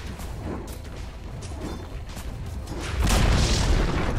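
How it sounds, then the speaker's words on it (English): A tower collapsing in the Dota video game, heard as a broad rumbling crash that swells loud near the end over continuous battle noise and scattered impacts. "Dire's middle tower has fallen."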